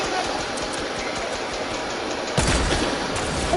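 Gunfire in a shooter video game, continuous crackling shots under a loud noisy game mix, with a sharper louder burst near the end.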